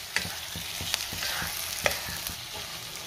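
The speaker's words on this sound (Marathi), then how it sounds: "मसाल्यामध्ये आपल्याला कोळंबी व्यवस्थित मिक्स करून घ्यायची आहे।" Prawns fry in a masala over a high-to-medium gas flame, a steady sizzle broken by regular scraping strokes of a spoon stirring the pan, while someone speaks over the cooking.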